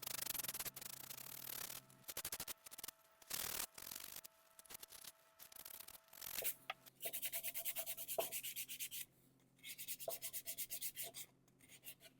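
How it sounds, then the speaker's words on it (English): Hand sanding a wooden Stanley plane tote with the grain, quiet close rubbing strokes in uneven bursts separated by short pauses. "I'm still going to hand sand these with the grain as much as possible"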